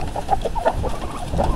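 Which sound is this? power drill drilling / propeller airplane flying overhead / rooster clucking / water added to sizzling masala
rooster clucking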